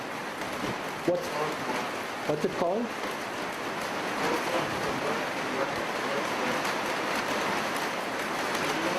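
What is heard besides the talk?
heavy rain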